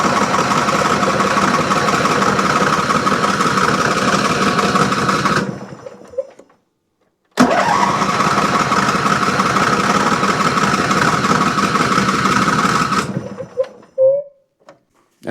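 A Briggs & Stratton engine on a riding mower with the parking brake locked runs loud and steady, cuts out briefly, restarts at the same roar, then dies down with a few sputters.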